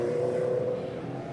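A steady, droning roar of classic and club racing motorcycles on a circuit hums in the distance, moving away and fading slightly toward the end, with no voices.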